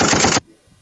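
A voice imitates gunfire in one loud, rapid, rattling burst lasting under half a second, followed by near silence.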